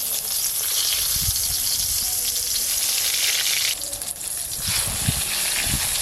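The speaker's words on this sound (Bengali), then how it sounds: "এবার বেগুনগুলো ভেজে নেব।" Eggplant slices fry in hot oil with a steady, dense sizzle that stays loud throughout, dipping briefly near the middle as the pan is handled, with a few low knocks of utensils.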